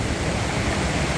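Powerful wild mountain river Psezuapse near Lazarevskoye, Sochi, rushing over stones in a dense, steady roar that fills everything with no pauses.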